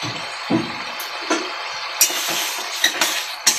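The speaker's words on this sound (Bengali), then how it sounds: "কড়াইশুঁটিগুলো দিয়ে দিচ্ছি" Green peas tipped into a kadai of cooking cabbage curry and stirred: a series of soft thumps and scraping clinks of spoon on pan, fairly close, with a light sizzle beneath.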